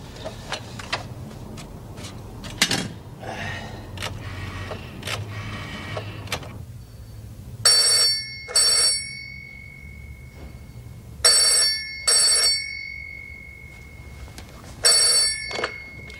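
A telephone bell rings in repeated double bursts, loud and close indoors, after a stretch of quieter clattering room sounds.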